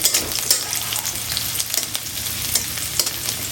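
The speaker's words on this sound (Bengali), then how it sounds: "একটু ভেজে নেব।" Chopped green chili, garlic and ginger sizzle in hot oil in a pan, a close, steady crackling fry with intermittent scraping stir strokes.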